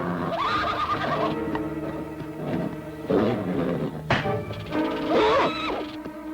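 A horse whinnies and neighs loudly in repeated bursts, close by, while restrained by a rope and menaced by a rattlesnake, with scuffling and a sharp knock between the calls.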